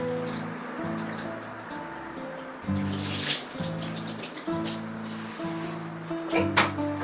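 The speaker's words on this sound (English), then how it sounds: "I'm just going to wash this till the water turns clear" Rice is washed in water until it runs clear, ahead of a Thai fried rice, with steady sloshing and trickling of water under background music throughout.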